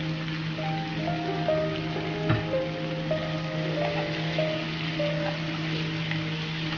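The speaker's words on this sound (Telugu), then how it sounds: "టమాటో ఆనియన్తో పాటుగా చికెన్ కూడా ఫ్రై అవుతుంది" Chicken frying in a pan with tomato and onion, giving a steady, even sizzle and crackle throughout, with a low constant hum underneath and no talk.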